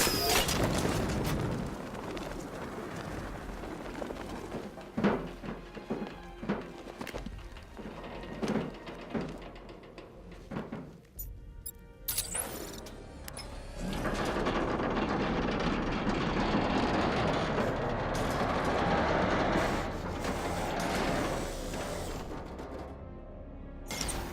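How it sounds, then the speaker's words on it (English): A lift inside the video game Batman: Arkham Knight rumbles and grinds as it moves, with deep mechanical drones, scattered clanks and uneven surges of noise over a continuous low hum. "This is as high as the elevator will go."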